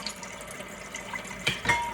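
Tap water runs steadily into a kitchen sink during washing up, a soft continuous hiss and splash with a couple of louder sloshing bursts near the end.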